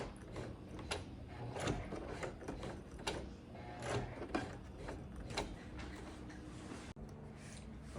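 A sewing machine turned by hand stitches leather with rhythmic mechanical clicks and clatter, each stitch sounding as a separate ratcheting tick at an uneven pace. The sound is close and clear, and no one speaks.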